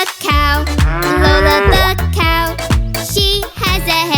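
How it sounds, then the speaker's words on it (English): A cartoon cow moos in a children's song, sounding as loud, sustained, strongly tonal lowing calls that swoop in pitch, repeated several times over a bouncy musical backing. "And Lola goes moo."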